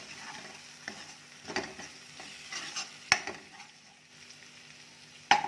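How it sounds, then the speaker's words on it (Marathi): Kolhapuri onion-garlic chutney masala and a pinch of turmeric sautéed in oil for a sprouted matki rassa curry: a quiet, low sizzle with scattered spoon scrapes and a couple of sharp clinks against the pan. "मी दोन चमचे कोल्हापुरी कांदा लसूण चटणी म्हणजेच कोल्हापुरी मसाला टाकते तेला छान परतून घेऊया"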